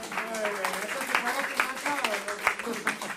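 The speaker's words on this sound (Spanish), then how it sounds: "Aplausos," An audience at a committee session applauds a deputy on his birthday, scattered clapping continuing under and around his speaking voice.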